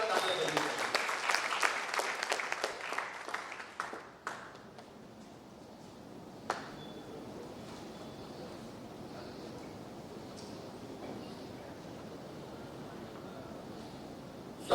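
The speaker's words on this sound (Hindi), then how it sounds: "Please welcome Pankaj Ranjit sir. जोरदार तालियां बजाइए।" Audience applause welcoming a speaker at the Bihar Convention 2022: a loud burst of dense clapping that thins out over a few seconds, leaving hall ambience with a faint voice and a single sharp tap later.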